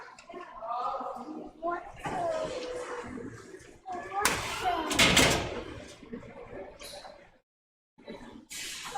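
Enclosure door at a snake feeding in a science center, a brief latch clack and sliding scrape amid close handling noise, with a person talking over and around it.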